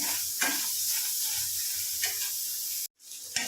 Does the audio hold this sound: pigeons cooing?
no